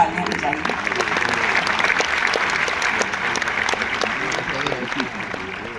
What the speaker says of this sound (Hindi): एक बार आगे से पीछे तक तालियां बजाइए।